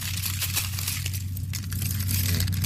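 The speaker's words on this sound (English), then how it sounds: "This is the sound of a man just pressing down on the grass in his yard." Dense crackling and crunching of ice-coated grass being pressed underfoot, steady and close, over a low constant hum.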